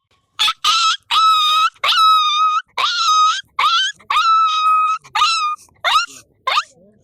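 A village boy in Bangladesh imitates a puppy, voicing a quick series of about ten high-pitched whining yelps and whimpers, close and loud, each short cry separated by brief pauses.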